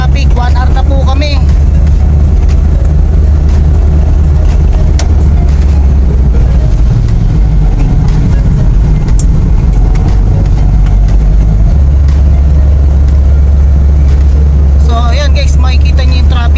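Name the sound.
heavy road traffic heard from inside a car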